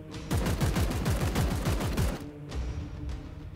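Suppressing gunfire in the Chaos Gate video game, a rapid, sustained burst of automatic shots for about two seconds, loud and close, then a few scattered heavier reports trailing off.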